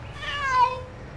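A cat gives a single drawn-out meow, fairly close and clear, rising and then falling over about a second, with a faint low rumble of background noise beneath it.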